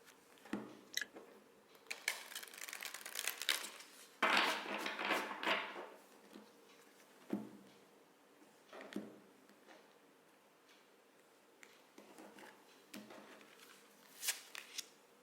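Close, soft riffle-and-slide bursts of a tarot deck being shuffled by hand come in irregular clusters, with brief quiet pauses between handfuls.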